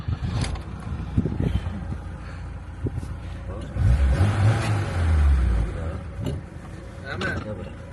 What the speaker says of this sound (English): I'm gonna drive this car now, man